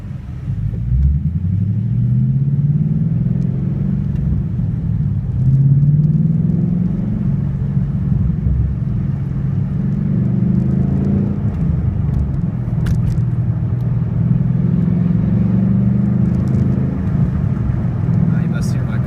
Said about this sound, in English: You must hear my car. He just gunned it.